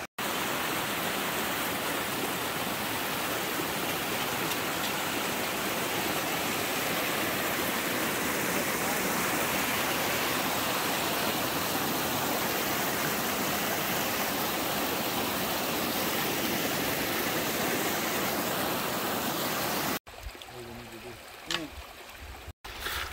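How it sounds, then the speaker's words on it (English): Small virgin creek flowing through a Cariboo cedar forest in British Columbia, a steady broadband water rush that holds for about twenty seconds before cutting to quieter, scattered sounds near the end. "Picturesque virgin little creek in the Cariboo."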